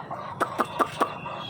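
A hen clucks in four evenly spaced, sharp bursts, fairly close, with a low murmur of background clucking in between.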